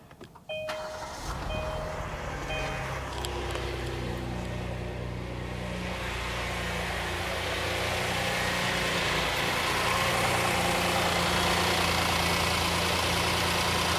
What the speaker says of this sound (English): it actually went ahead and started the car